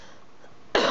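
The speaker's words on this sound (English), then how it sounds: "sorry guys, I've got a bit of a cough." A single sharp cough from an adult woman bursts in at the very end after near silence, close and loud.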